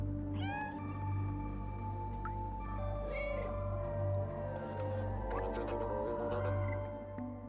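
A cat meows repeatedly in a video game, with several clear rising meows over a steady droning game soundtrack and ambient background.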